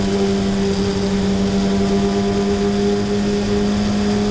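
A race car engine in a racing video game holds a steady, loud drone throughout, with sustained tones and no clear revving or gear change.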